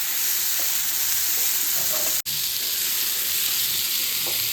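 Boiled amla, Indian gooseberry, stirred in a pan while making amloki pickle, giving a steady soft sizzle and hiss with light scraping of the spoon, one brief dropout midway, no voices.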